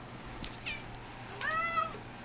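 Pet cats meowing over a pot of cat grass indoors: two or three rising, drawn-out meows, the last one longer and louder, close by and heard alone.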